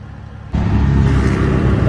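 A CNG auto rickshaw drives along the road, its small engine rising from a quieter idle into a loud, steady running drone close by.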